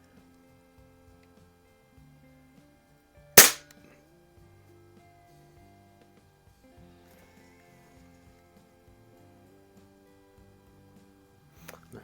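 A Tech Force TF-79 .22 CO2 target rifle fires one sharp, sudden crack, standing out clearly above a faint background hum and scattered small ticks.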